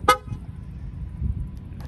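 A 2021 Ford Bronco Sport gives a single short, sharp horn chirp as it locks, followed by quiet outdoor background and a faint second blip near the end.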